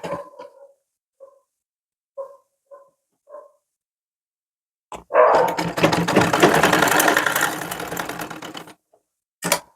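A sewing machine stitches a strip on a suit. A few short separate taps come first, then a loud rattling burst of stitching lasts several seconds and ends with a single click.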